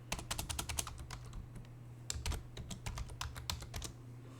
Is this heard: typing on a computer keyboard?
yes